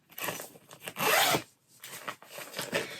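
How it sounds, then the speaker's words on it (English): The zipper on a photography reflector case is pulled open in several close, raspy strokes, one long pull in the middle, with short pauses between them. "And then if I can find the zip"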